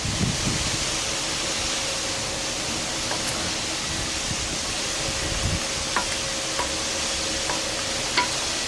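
Black pepper being stirred into a pot of beef stew, a steady soft scraping and bubbling wash with faint clinks of a spoon against the pot, close and continuous without speech.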